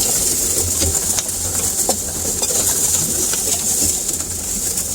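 Pigeons in a loft give soft, repeated cooing beneath a steady background hiss, with scattered wing flutters and small clicks, fairly close, with no speech.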